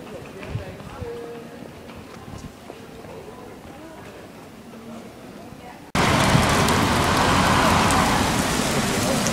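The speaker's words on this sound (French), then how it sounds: "je me suis pogné par la pluie puis il grêle" Steady rain patters outdoors in Luxembourg, then abruptly swells into a loud, dense roar of heavy rain and hail drumming on a surface.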